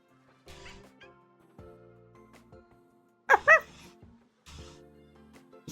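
Pet puppy in a video game giving a few short yips and bow-wows, with a louder, sharper burst of two barks midway between quieter yaps, close and clear with no talk.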